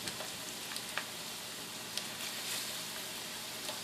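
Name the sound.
chicken frying in oil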